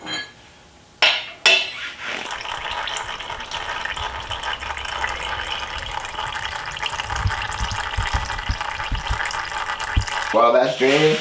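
Engine fluids from a Honda K24A2 engine drain in a steady, close hiss of pouring liquid lasting several seconds, with a few clinks at the start.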